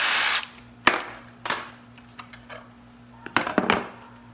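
A cordless power drill drives wood screws into an electric scooter during a battery replacement, giving a whining burst at the start and several shorter close bursts that stop and start in short runs.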